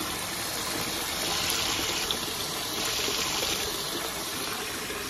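Steady, loud hiss of water spraying as Jeep floor mats are washed off, continuous and close with no talking.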